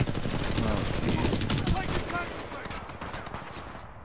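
Rapid automatic gunfire in Titanfall, a video game, rattles in dense bursts for several seconds before thinning out, with a voice speaking over it.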